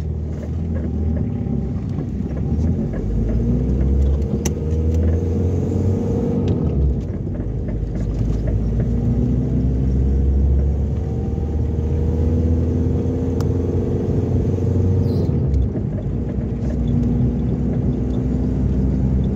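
A car rolling slowly along a road, a steady low engine rumble and tire noise continuing throughout at close range with no talk.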